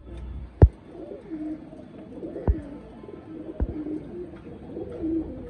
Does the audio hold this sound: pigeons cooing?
yes